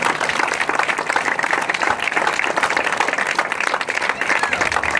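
An audience at a French foundation-stone ceremony in Le Grau-du-Roi claps for Madame Mouru, dense and steady applause sustained evenly through the whole stretch.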